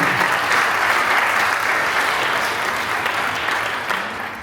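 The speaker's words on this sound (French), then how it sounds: "vous pouvez l'applaudir, elle est aussi forte." A crowd applauds steadily and fairly loudly throughout, the clapping thinning slightly toward the end.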